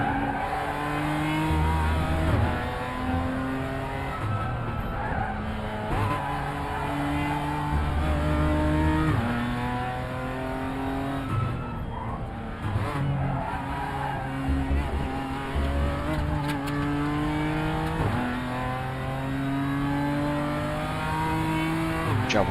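A race car in the sim racing game RaceRoom runs a practice session, its engine note rising and falling steadily through gear changes and revs, with tire squeal and skidding through corners. The car sounds continuous and loud throughout.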